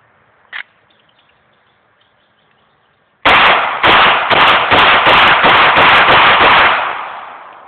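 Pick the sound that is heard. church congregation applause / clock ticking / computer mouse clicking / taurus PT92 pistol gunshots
taurus PT92 pistol gunshots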